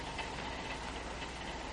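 Radio drama effect of a train carriage rolling on rails, a steady low rumble and hiss with faint rhythmic clatter running throughout.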